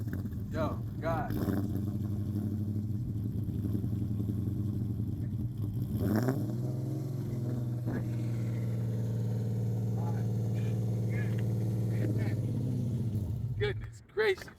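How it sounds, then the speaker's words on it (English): Supercharged 2011 Dodge Charger R/T with a Borla Type S exhaust, engine held at a loud, steady drone with a brief rev near the start, people exclaiming at the beginning and end. "That sound is from a Borla Type S exhaust."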